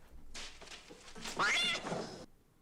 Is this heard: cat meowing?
yes